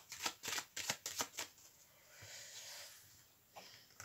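Tarot de Marseille cards shuffled by hand: a quick run of crisp riffling bursts in the first second and a half, then a softer sliding rustle and one last brief flick, close and quiet.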